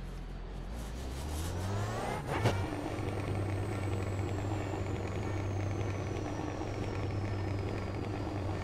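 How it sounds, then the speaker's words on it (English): BMW M8 GTE racing car with a turbocharged engine in the iRacing simulator at COTA, a loud steady engine drone with a rising whine and a brief sharp pop near the start, then sustained running throughout. "Do you hear the turbo engine blowing?"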